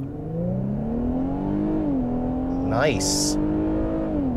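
A 2022 Infiniti Q50 AWD sedan with a seven-speed automatic, in sport mode, launches hard from a brake-torque hold. The engine note climbs steadily and loudly, then drops briefly at an upshift before rising again. A voice speaks once near the end.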